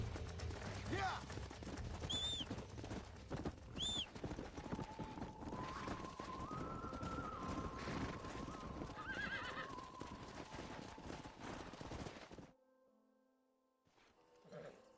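Horses whinny and snort in the Red Dead Redemption video game while hooves clip-clop on dusty ground, with a long neigh in the middle, background game ambience, and a brief quieter stretch at the end.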